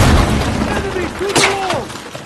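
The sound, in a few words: wall breach explosion in Battlefield 6 video game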